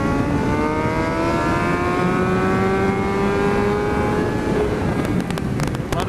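Motorcycle on a race track, its engine note sweeping steadily across a long run with rising and falling pitch as it brakes and accelerates, loud and continuous under wind buffeting, with brief clicks near the end.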